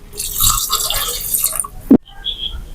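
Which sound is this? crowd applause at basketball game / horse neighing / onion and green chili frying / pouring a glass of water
pouring a glass of water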